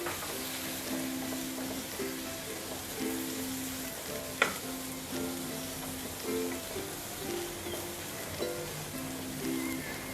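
Onions sizzle and crackle steadily in mustard oil, a soft continuous frying hiss with a faint occasional clink, for a beef bhuna.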